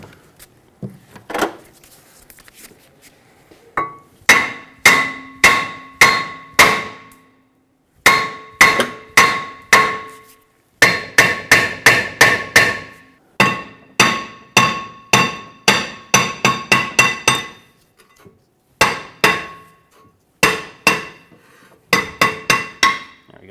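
A hammer strikes the side of a stuck rear brake rotor on the hub of a 2013-2018 Hyundai Santa Fe, ringing metallic clangs in quick bursts of three to six blows separated by short pauses.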